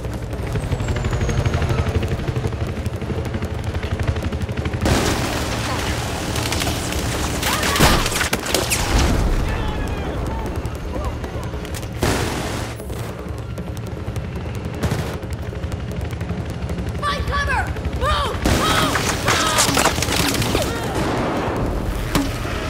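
Gunfire in Battlefield 4: sustained automatic bursts and heavy booms rattle loudly and continuously, with sharp individual shots cutting through a dense battle din of explosions and whirring machinery.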